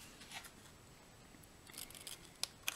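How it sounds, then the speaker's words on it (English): Scissors snipping a small V into the outer tab of a paper reindeer box, a few quick faint cuts ending in two sharper snips, close and quiet, with no voices. "on this outside tab one, I'm going to cut a little V out of it."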